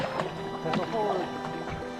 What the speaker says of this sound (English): Paddle hard.